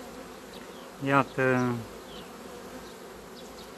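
Honey bees buzz at the hive in a steady low hum, with two louder, close buzzing bursts in the middle and a brief spoken word.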